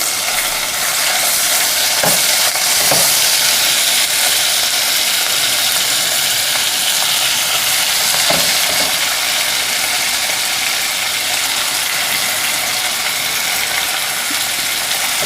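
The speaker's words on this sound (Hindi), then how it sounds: "अब जो है मैं ये कीमा डालूँगी" Minced meat (keema) frying in a pan: a steady, loud sizzle holds through the whole stretch, broken by a few faint scraping stirs.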